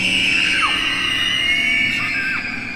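Dozens of children scream together in a sustained, piercing wail, recorded on a cassette player. The shrill cries overlap loudly and continuously with no talking.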